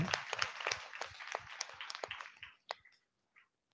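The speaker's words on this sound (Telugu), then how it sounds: "అన్నిటికీ చప్పట్లు కొడతారా మీరు?" An audience at a church gathering claps in a loose burst, dense at first and thinning to a few isolated claps before dying away.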